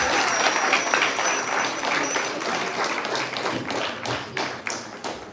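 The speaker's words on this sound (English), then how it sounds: "I think that little Jamuna deserves another big round of applause." An audience at the Vyasa Puja of HH Indradyumna Swami in London gives a round of applause, sustained dense clapping that thins into scattered claps toward the end.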